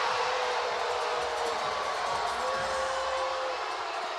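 Arena crowd at an indoor soccer game, Baltimore Blast against Milwaukee Wave, reacting to a referee's no-foul call with a steady, loud, dense roar of voices that holds for the whole stretch with no pauses.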